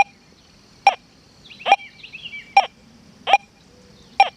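Five sharp electronic chirps or beeps from a faint radio signal pulse at regular intervals against a quiet hiss of static, with faint warbling signal noise between them.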